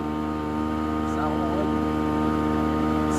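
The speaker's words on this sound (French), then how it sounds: "C'est un bruit de bateau." Boat engine on the Charente river, a steady, fairly loud droning hum with a constant mechanical tone that stays even throughout, with a voice speaking faintly over it.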